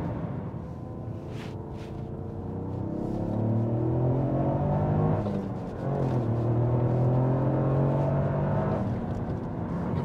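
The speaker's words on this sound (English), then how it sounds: "What a machine this is for highway driving. Road noise, it's revving." Toyota GR Yaris cruising on a highway, a steady engine drone rising and falling in pitch under continuous road roar, building louder midway with no talking.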